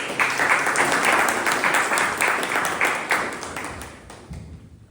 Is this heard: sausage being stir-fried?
no